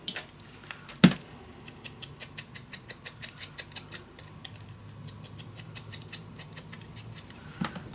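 Scissors cutting white paper along a black line, making a quick, steady run of crisp, close snips with a sharper clack near the start.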